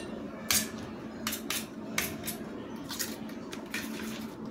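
A spoon stirs chopped onion and coriander into egg omelette batter in a bowl, making a string of quiet, irregular clinks and taps against the dish.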